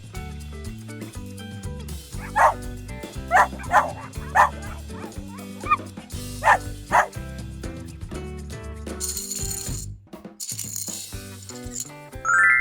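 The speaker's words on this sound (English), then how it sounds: "Yes, it is a dog." A small toy dog barks in a string of sharp yips, with several separate barks in the first half, over steady background music and a rattle near the end.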